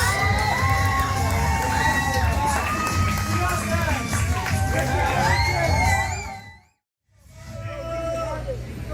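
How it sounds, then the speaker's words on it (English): A wrestling crowd at a live event cheers, whoops and shouts in a loud sustained roar that cuts out abruptly and then resumes. "This crowd loves it."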